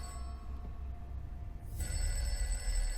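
A telephone rings somewhere in an office scene of a TV drama, a bright electronic ring that swells in partway through over a low background hum, with no voices.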